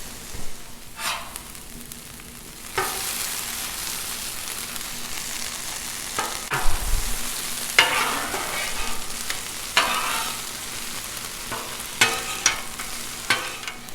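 Chorizo and hash browns frying on a Blackstone griddle, a steady close sizzle with intermittent scraping and tapping of a spatula as the food is turned, no voices.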